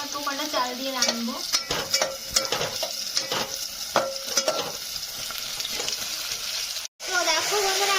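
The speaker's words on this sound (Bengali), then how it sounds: "আমার পেঁয়াজটা ভাজা হয়ে গেছে।" Onions fry in a pan while a utensil stirs and scrapes, a continuous sizzle with repeated clatter, close by, with a person talking over it.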